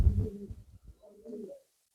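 Pigeons in a home pigeon loft give a pair of soft, low coos, close and fairly faint, the second rising in a short rolling phrase before quiet.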